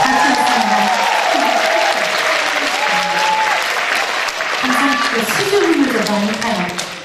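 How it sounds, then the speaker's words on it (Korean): Concert audience at a winter music show applauds, a dense and loud wash of clapping that continues steadily for the whole stretch. A host's voice and background music carry underneath. "멋있으시면 박수 한번 주세요"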